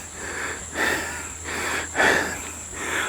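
Heavy panting after a hike to the Camias viewdeck summit in Porac, Pampanga, with several deep, rasping breaths in and out, close to the microphone, over a faint steady background hum.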